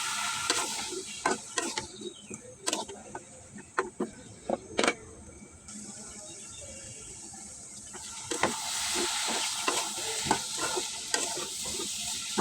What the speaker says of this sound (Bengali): এখন বারে বারে বেগুনগুলি উল্টে পাল্টে ভাজা ভাজা করে নিব।